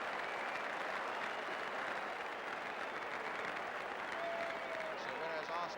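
Large football crowd at Highbury applauding a substitution during Arsenal v Spurs, a steady dense roar of clapping throughout with some faint whistles and voices mixed in.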